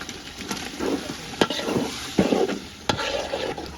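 Meat being fried and stirred into a spiced masala in a pot for bhuna khichuri, a steady close sizzle broken by several sharp scrapes and clinks of the spoon against the pan.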